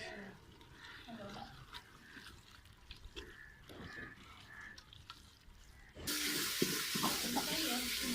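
Spinach and turnip frying in ghee and oil in a village kitchen, with a steady low sizzle and stirring scrapes, turning louder and brighter with a strong hiss after about six seconds.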